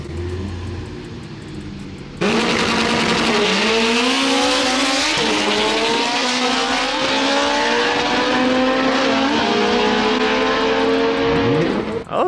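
Modified, fully built hatchback launching hard in a street race, engine snapping from idle to a loud, sustained high-revving roar with climbing gear pulls and tire squeal, close and dominant.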